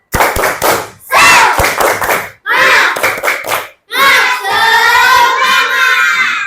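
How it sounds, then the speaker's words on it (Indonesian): Schoolchildren in a classroom perform the tepuk semangat clap chant: a group of young voices chanting loudly together with sharp rhythmic hand claps, several bursts with brief pauses between. "pengen dengar tepuk semangatnya dulu"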